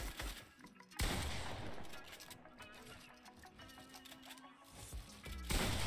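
Bursts of gunfire in the Fortnite video game, loud sharp shots at the start and end framing a stretch of busy mechanical game sounds and clatter, with occasional talking.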